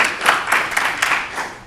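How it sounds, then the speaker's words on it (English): An audience at a cosplay convention panel claps in a steady, lively round of applause, many hands together at moderate loudness with no voices over it. "I want to give these two a round of applause"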